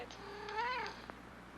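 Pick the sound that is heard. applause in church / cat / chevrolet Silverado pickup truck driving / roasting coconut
cat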